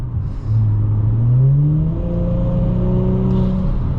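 A 2018 Audi S4 with the 3.0T engine accelerates hard from the driver's seat, its loud engine note climbing steadily in pitch and then holding high and strong, with no talking.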